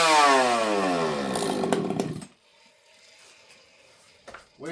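Piped chainsaw engine running too rich during carburetor tuning, a loud near blubbering roar with dense harmonics that cuts off sharply midway, followed by quiet and a brief burst of handling noise.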